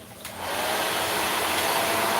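A hair dryer with a comb attachment, on a warm setting, switches on and blows with a steady, loud whooshing hiss and motor whine that continues without pause to the end.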